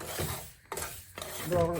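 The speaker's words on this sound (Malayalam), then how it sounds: "റവ ഇട്ടിട്ട് അതൊന്ന് ഇളക്കി ഒന്ന് ചൂടാക്കി എടുക്കും." Semolina being stirred and dry-roasted in a pan, heard as a few brief scraping, rustling strokes with short pauses between them, close and fairly quiet.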